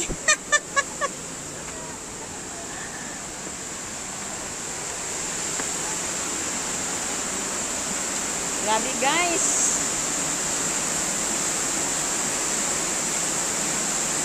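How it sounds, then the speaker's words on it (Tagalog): Water gushes from an opened irrigation outlet at an irrigation site, a steady broadband rush that swells partway through and runs on, loud and close, with a few short voices and exclamations over it. "Paglabas ng tubig."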